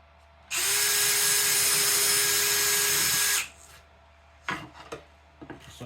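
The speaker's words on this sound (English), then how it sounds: "I'm going to just drill a hole here and drill a hole here." A power drill fitted with a quarter-inch bit whines loudly for about three seconds at a steady pitch, then stops, followed by a few scattered knocks and rubbing handling sounds.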